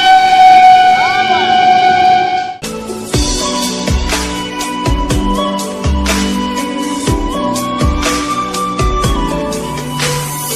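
The Dhauli Express races along the tracks at about 125 km/h. A sustained whistle-like tone opens, then gives way to a loud, rhythmic clatter of wheels over rail joints, with metallic rattling close by.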